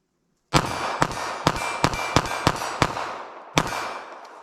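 Sharp gunshots from a .32 ACP pocket pistol firing FMJ rounds, eight loud reports in quick irregular succession followed by a pause and one more shot, each with a short ringing tail.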